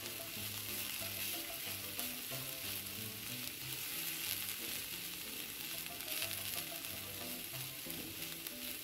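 Grated coconut sautéed in a hot pan for snake gourd and carrot thoran, crackling in a continuous soft sizzle with a faint stirring rhythm, no voices.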